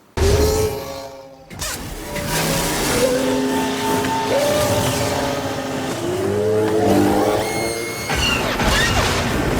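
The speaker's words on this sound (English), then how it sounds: "wind up in a speeder bike chase" A speeder bike chase from Star Wars: Return of the Jedi, with loud continuous engine whines and rising, falling pass-by whooshes, layered over a dense action mix with a sharp impact near the start.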